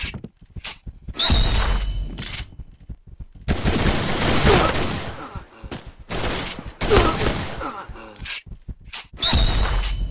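Gunfire in the video game Point Blank, loud bursts of rapid automatic shots in several rounds separated by short gaps, with shattering impacts.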